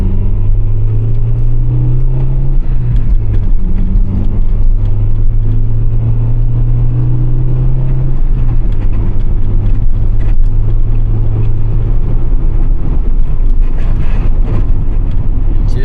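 A 1995 Acura Integra DC4 with a manual gearbox and no VTEC, driving at night. Its engine drones loud and steady under road rumble, and the pitch shifts as it changes gear.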